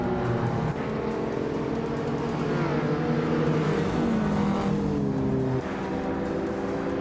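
Race cars roar off the line at the Feldbergring in a racing video game, led by a 1985 Lamborghini Countach LP 5000 QV, with a continuous loud layered engine drone whose pitches rise and shift as the cars accelerate.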